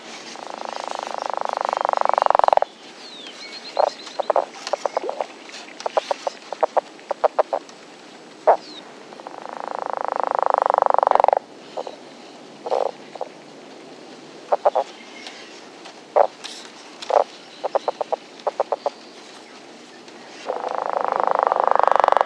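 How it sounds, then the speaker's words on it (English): Northern leopard frog calls come in long snoring croaks, three of them, with bursts of rapid clucking grunts between them, loud and close with no talking. "Really common, the northern leopard frog"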